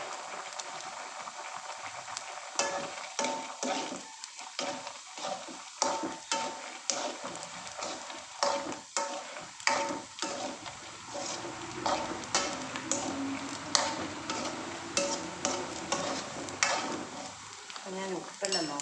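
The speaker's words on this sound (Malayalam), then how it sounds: "ഇളക്കി വറുത്തിട്ടേ." Masala kozhukkatta dumplings are stirred and fried in a pan, with repeated scraping strokes over a continuous sizzle, close by and fairly busy throughout.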